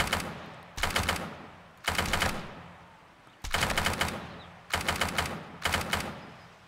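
Automatic weapon fire in the zombie survival game Undead Legacy, six sharp rapid bursts spaced about a second apart, each crackling then decaying into a quieter background hum, with no talk.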